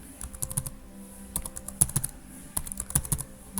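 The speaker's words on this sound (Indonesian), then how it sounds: "Kita ketikkan IP address-nya itu" Keystrokes on a computer keyboard as an IP address is entered while configuring a Cisco router for RIP routing, a quick irregular run of close, crisp clicks with short pauses between bursts and a few harder key hits.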